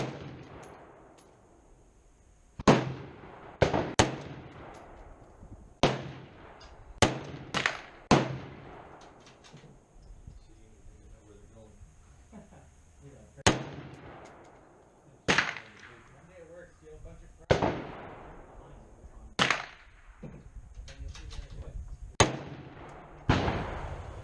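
Rifle gunshots fired one at a time at an outdoor range while a Barska scope is adjusted, sharp loud cracks with echoing decays at irregular intervals, some in quick pairs, with quiet pauses between.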